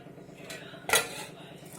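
Dishes and cutlery knock together while rice is served at home, a single sharp clink standing out from quieter background clatter.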